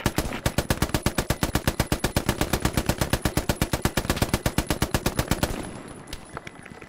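A machine gun in the World War II shooter Hell Let Loose, set at Stalingrad, empties a full 50-round magazine in one long, evenly paced burst of loud, close shots, then falls quiet with a faint tail.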